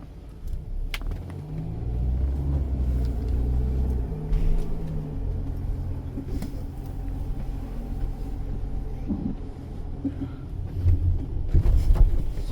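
Green Hobbiton tour bus with its engine running, a continuous loud low rumble and idle drone that swells slightly at times, heard from close by with no talking.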